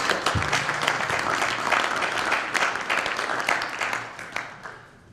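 Audience applause fills a policy forum on higher education, steady and sustained clapping from a crowd that tapers off toward the end.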